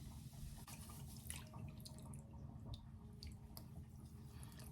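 Apple cider vinegar rinse mixed with lemon juice poured over a toddler's locs, a soft steady trickle and drip of liquid with no talking.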